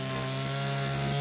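A Wild Badger 3-in-1 trimmer with its saw blade cuts tree limbs, a loud, steady droning engine whine with a strong buzzing tone, close and unbroken across the short span.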